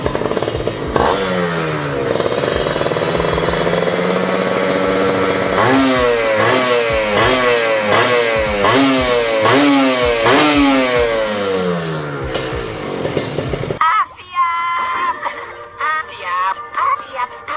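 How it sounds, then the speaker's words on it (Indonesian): A modified Kawasaki Ninja R motorcycle engine, converted with Victor S parts, idles and is revved repeatedly in sharp rising bursts up close, then settles to a rougher, sputtering idle near the end. "RPM jalan, motor jalan, bisa langsam."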